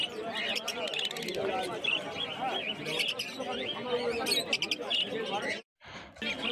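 Lovebirds and Fischer's lovebirds, including lutino Fischer's lovebirds, chirp and chatter busily at a bird market on a rainy winter day, with many overlapping tweets and background voices throughout.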